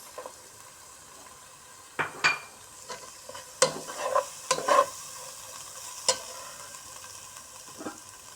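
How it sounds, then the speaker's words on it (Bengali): Shrimp and spices stir-fry in a pan, with a soft steady sizzle broken by scattered scrapes and clinks from a stirring utensil, close by and fairly quiet. "লবণ স্বাদ মতো নাড়াচাড়া করে একটু মশলাটা ভেজে নিই"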